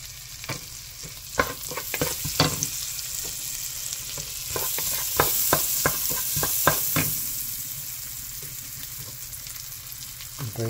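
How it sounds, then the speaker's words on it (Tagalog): Onions sauté in a hot pan for chicken macaroni sopas, giving a continuous bright sizzle broken by sharp scraping clicks and knocks as a utensil stirs them, close and loud with no talk. "Hintayin natin mag-translucent yung sibuyas."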